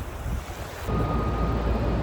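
Sea waves and wind on the coast at Ostend, Belgium, a dense continuous wash of surf and gusting air that swells noticeably louder partway through, with no voices.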